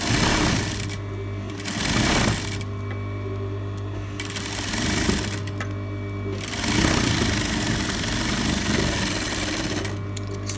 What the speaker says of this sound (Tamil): இங்கே நம்ம வந்து ஸ்டிச் பண்ணலாம்.